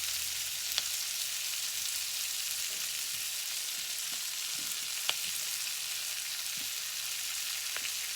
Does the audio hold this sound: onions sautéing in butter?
yes